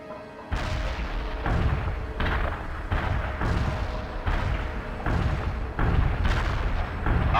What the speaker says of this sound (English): Artillery firing. Wilco. Fire mission received. Artillery barrage inbound.